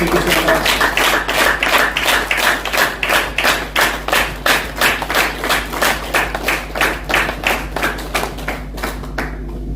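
A large audience at a distributor programme held at Karna Lake in Karnal claps in a steady, rhythmic beat for about ten seconds, a loud, close, even pulse of hands that eases off slightly toward the end.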